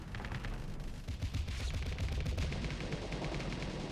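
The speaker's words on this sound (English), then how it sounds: "should not have shot missiles at that, but, you know, it's beating the crap out of the shields" Space battle in the video game Starsector, with missiles and guns firing: rapid overlapping bursts of synthetic gunfire and impacts in a dense, continuous barrage, quiet in the mix and without speech.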